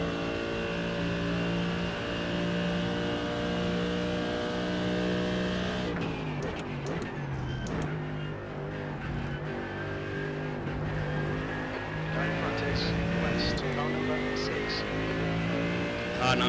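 GT3 race cars battling into a chicane at Road Atlanta in a racing video game, engines holding steady harmonic drones then shifting and revving as the cars brake and accelerate, close and loud, with a voice talking over them.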